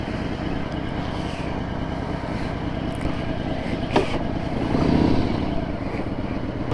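A Vespa scooter engine runs steadily at close range, a low, even drone that swells slightly partway through, with no voices.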